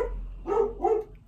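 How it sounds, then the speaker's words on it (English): Two barks from household dogs a short distance away, at home on a quiet morning, spaced about a third of a second apart over a low steady background hum. "now my dogs are barking"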